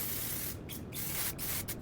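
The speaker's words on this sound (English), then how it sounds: "finish with one of my favorite products of all time, Disco Disco Clear Gloss Shine Spray" Disco Clear Gloss Shine Spray hisses onto bleached blonde hair in several close, loud bursts, each a broad airy spray with brief gaps between them.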